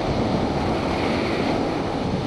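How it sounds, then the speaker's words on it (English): Strong wind buffets the microphone beside a road in a constant, roaring rush of noise with no other distinct sounds. "Ooh, a little windy though, as you can tell by that dirt coming across the road."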